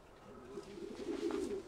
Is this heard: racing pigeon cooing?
yes